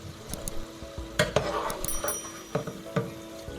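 Potato mixture frying in hot oil while being scooped out with a slotted spoon, giving a soft steady sizzle broken by several close metallic scrapes and clinks of the spoon against the pan.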